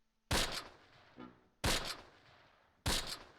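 Three loud, sharp bursts of gunfire from the World War II tactical game Close Combat, each dense volley standing alone with a short decaying tail and silence between.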